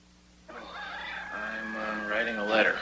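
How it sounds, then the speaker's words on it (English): A rooster crows in a 1981 drama scene, one long, strained cock-a-doodle-doo that starts after a brief quiet and swells louder toward its rough, rising end, fairly close by. "I think that rooster's early."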